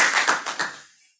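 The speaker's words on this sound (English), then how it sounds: "Can we give him a round of applause," Short burst of applause for a professor after a food safety presentation at a partnership celebration, a few distinct claps close by, quickly fading into silence.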